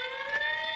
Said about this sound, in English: Attention, all units, general alarm.